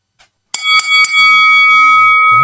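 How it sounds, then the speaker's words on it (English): A single bell rings out loud and clear, struck a few times in quick succession and then left to ring on with a long, sustained tone. "It rings out a little bit, that bell"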